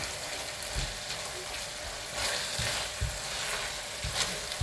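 Lamb mince keema sizzles steadily in a pan while a spoon scrapes and stirs it in repeated strokes. The frying is loud and close, with no voices.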